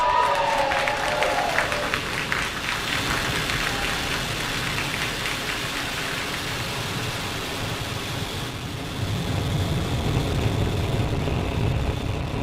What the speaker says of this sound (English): Ignition and liftoff of Starlink 414.